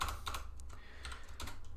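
Code being typed on a computer keyboard, a quick, quiet run of close key clicks in irregular bursts, with no talking.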